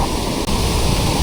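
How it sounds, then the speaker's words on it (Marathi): A waterfall and a swollen stream in heavy monsoon rain in rural Konkan, heard as a loud, continuous broadband roar of rushing water with no pauses. "ते खालचा धबधबा केवढा ॲक्टिव्ह आहे बघा"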